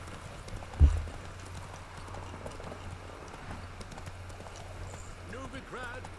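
Hooves of a galloping horse in The Witcher 3 video game drum in a quick steady rhythm, faint under someone talking, with one sharp thump near the start.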